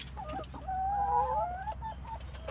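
A chicken clucks and warbles in a few short bursts, close by, over a low steady rumble of outdoor background noise.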